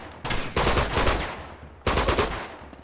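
Loud bursts of automatic gunfire in Uncharted 2 Among Thieves Remastered as an enemy is shot, two sustained rattling volleys separated by a brief pause.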